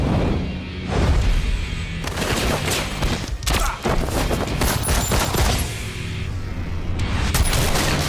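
Gunfire in a dramatic film scene: dense, loud bursts of shots and booms roll on continuously for several seconds, heavy and close, with no clear talk over them.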